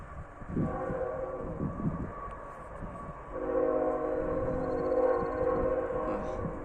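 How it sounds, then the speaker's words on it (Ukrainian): A train on a nearby railway in Canada, running between Toronto and Moncton, rumbles steadily at a moderate distance and sounds a sustained horn that grows louder in the second half. "бачите, там поїзд іде, там це йде з е, Торонто до Монтона"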